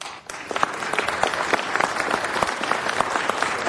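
Steady audience applause fills a city council chamber, a dense, continuous patter of many hands at moderate distance with faint voices underneath.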